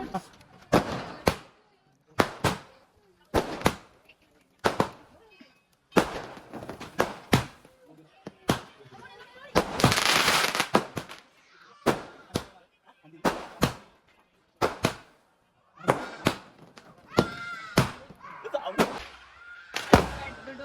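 Firecrackers burst in a string of loud, sharp bangs at a steady pace during a birthday celebration, with one longer crackling blast midway; close and punchy.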